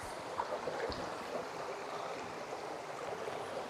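A small beck flows steadily beside autumn woodland, a soft continuous burble and wash of water, close and even throughout with no voices.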